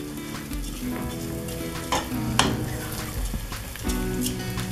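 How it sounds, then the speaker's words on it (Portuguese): Type 1 long-grain rice sautés in a pot with a slightly scorched bottom, a steady close sizzle with scraping stirs and occasional louder crackles. "colocar o arroz, que é a agulhinha, tipo 1, e vou refogar um pouquinho"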